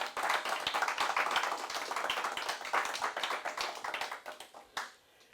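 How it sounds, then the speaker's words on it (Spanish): A church congregation claps during a sermon, producing a dense, rhythmic run of hand claps with sharp individual smacks up close, lasting about five seconds before fading. "Denle un fuerte aplauso al Señor, hermano."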